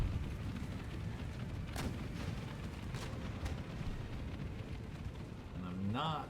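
Cannons fire canister shot in the Empire: Total War battle game, faint dull booms scattered over a dense, low rumbling wash of battle noise.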